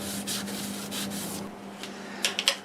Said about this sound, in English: I'm going to sand this up probably and give it another coat.